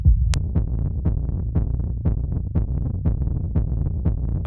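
Hard techno rumble kick drum run through Ableton's dynamic tube distortion pounds in a steady four-on-the-floor pattern, roughly two heavy, gritty hits per second with rumbling low tails and a brief click near the start.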